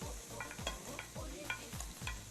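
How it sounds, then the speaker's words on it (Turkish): Steady sizzling of carrots frying in a pot, with a repeated scraping stir roughly every half second, close and moderately loud. "Çıs diye böyle ses geliyor ya. O zaman yemeğin piştiğinin farkına varıyorum."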